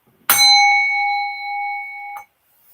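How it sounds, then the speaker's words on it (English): A small bell is struck once and rings out with a bright, sustained tone that decays over about two seconds, with a faint second touch near the end, heard alone in a quiet room. "That's my little bell thing."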